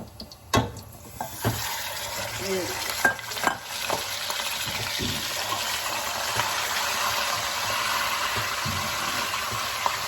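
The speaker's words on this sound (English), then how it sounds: "Cumin seeds are frying in the oil. It's time for me to add the ground beef slowly." Ground beef is added to hot oil with frying cumin seeds, giving a loud, steady sizzle with sharp clinks of a utensil stirring against the pan early on, then continuous crackling frying with no talking.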